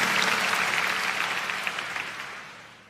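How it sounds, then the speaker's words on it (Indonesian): A church congregation claps together in sustained, dense applause that fills the room, gradually fading away toward the end with no speech over it. "Berikan tepuk tangan untuk Tuhan Yesus."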